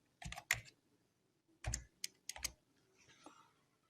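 A word is typed on a computer keyboard to trigger a Messenger chatbot. Crisp, close keystroke clicks come in a few irregular bursts with short pauses between them, in an otherwise quiet room.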